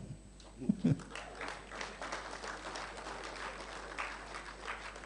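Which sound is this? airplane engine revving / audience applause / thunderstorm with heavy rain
audience applause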